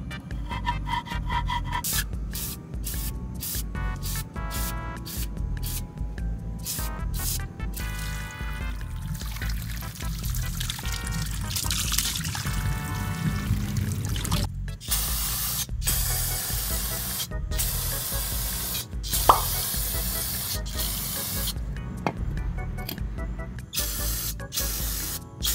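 Foam grime cleaner and brake cleaner spray onto greasy car parts beneath a Mercedes CLK55 AMG during a manual transmission swap, giving steady nearby hissing bursts with short pauses, loud and continuous over a low background hum.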